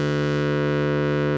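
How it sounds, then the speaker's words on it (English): A distortion drive effect from an audio plugin sustains a loud, steady, buzzing harmonic tone with a thick, saturated texture, held unchanging for just over a second. "So it sounds really good just as a distortion plugin by itself."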